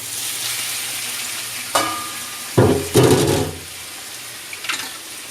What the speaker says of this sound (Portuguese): Então agora eu vou começar a fritar o nosso franguinho, viu?